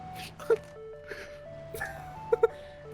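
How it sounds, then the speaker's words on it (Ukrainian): Music from a vehicle approaching in the PUBG video game plays as a steady melodic tune, with short loud bursts and faint talk over it. "Машина йде. Це якась страшна машина, в неї якась музика."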